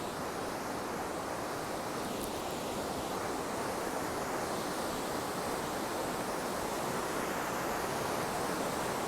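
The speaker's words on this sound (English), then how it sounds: "Wow, look at that thing ripping" A fast, roaring river rushes past along a hiking trail, a steady broadband wash of water that stays constant and fairly distant, with no voices.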